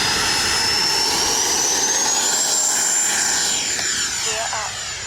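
An FMS Integral 80mm electric ducted-fan RC jet screams on takeoff, a loud, high whine that rises in pitch and holds steady as it accelerates, then fades slightly as it climbs away.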